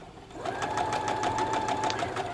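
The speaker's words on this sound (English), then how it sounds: "I am going to, with a straight stitch, I am going to stitch right on that line." A sewing machine sews a slow straight stitch along a curved line, giving a steady, close, rhythmic whirring and needle chatter after a brief quiet start.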